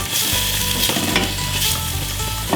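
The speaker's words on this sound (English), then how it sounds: "I'm going to fry the onion until it's slightly brown and soft." Onions frying in butter in a pan over high heat for dhal curry, a loud steady sizzle with stirring scrapes and occasional crackles running throughout, close by and without speech.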